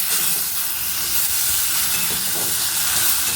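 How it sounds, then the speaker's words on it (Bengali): Masala spice paste frying in a pan for jackfruit mutton curry, a dense steady hiss and sizzle, close and continuous with no talking. "মশলাটাকে দিয়েও খুব ভালো করে কষিয়ে নেব"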